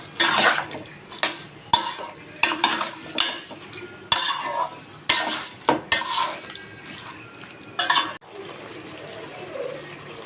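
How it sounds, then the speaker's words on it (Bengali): Chicken pieces are stir-fried with turmeric in a pan. Rhythmic bursts of sizzling and spatula scraping come roughly every second, close and fairly loud, then settle into a softer fry. "সুন্দর করে মাংসটা আমি কষিয়ে নেব।"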